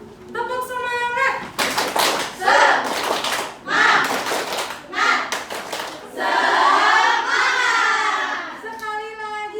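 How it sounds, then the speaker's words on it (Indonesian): Children in a classroom lesson do a 'tepuk semangat' clapping chant: bursts of claps mixed with loud chanting young voices, ending in a sustained group shout, with an adult voice briefly at the start and end. "Tepuk semangat!"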